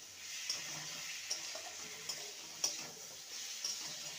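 Thin-sliced potato strips sizzle softly in a pan for poha while a spoon stirs them, with a few light scraping clicks over a steady, quiet hiss.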